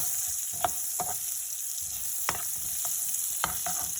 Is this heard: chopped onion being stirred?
yes